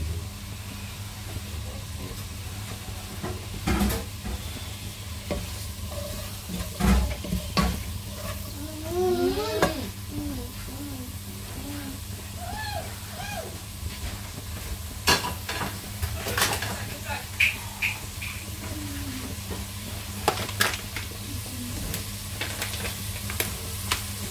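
Smoked Lidl lardons frying in a hot pan, a steady close sizzle broken by occasional stirring scrapes and clatters of the utensil, with a few brief voices in the background.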